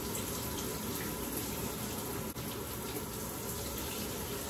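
Cold tap water runs steadily into a sink or tub during a bathroom evening routine, a constant full-bodied rushing hiss that stays loud and even throughout with no voices.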